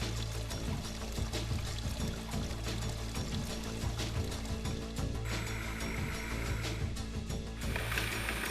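Water pours and splashes steadily over a plastic part of an INALSA Maxie Classic food processor being rinsed, with faint clattering of the part under the running stream throughout.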